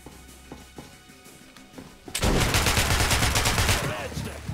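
Rapid pistol gunfire in the video game Metro: Last Light bursts in loudly after a quieter stretch of faint clicks and movement, a dense run of close shots with sharp reports continuing to the end.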